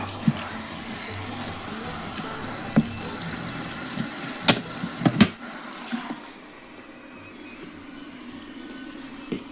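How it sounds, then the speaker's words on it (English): Water runs steadily into the rinse tank of a Costway twin tub washer and spinner, a continuous filling wash with a few soft clunks early on, then the flow quietens and thins near the end. "Finish filling the tank."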